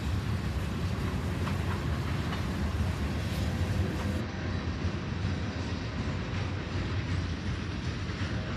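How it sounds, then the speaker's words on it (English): A train rolls past on the railroad tracks at Mad River in hot weather, a steady loud rumble with faint clickety-clack from the wheels that holds for several seconds, close by, with no voices. "So you guys can see the train on it."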